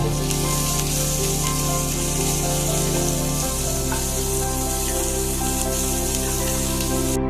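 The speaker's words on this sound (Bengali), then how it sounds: "পেঁয়াজটা দিলাম রসুন কুচিটাও দিয়ে দিলাম দিয়ে একটু নেড়ে নেব" Chopped onion and garlic frying in a pan while being stirred, giving a steady, loud, close sizzle that continues throughout with no voices.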